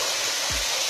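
Spring water pouring from a small pipe and running downhill as a stream: a steady, dense broadband rush close by, unbroken for the whole stretch, with one brief low thump midway.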